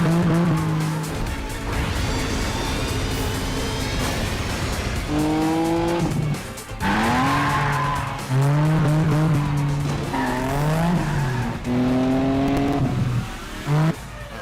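A car spins out in a racing video game, with loud, sustained tire squeals that rise and fall in repeated sweeping waves over a steady engine drone.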